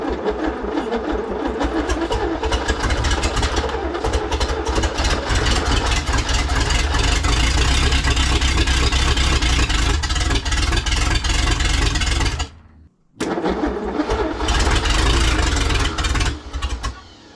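A Studebaker Wagonaire engine cranks and runs at a loud, steady rough idle, cutting out abruptly for a moment near the end before roaring back and continuing to run.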